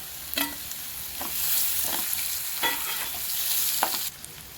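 Tomatoes stirred into frying onions in a pan for a Kerala-style prawn biryani: a steady broad sizzle with a few scraping stir strokes, close and moderately loud, no voices.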